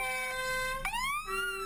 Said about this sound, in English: they would use that siren once they're coming up to a populated area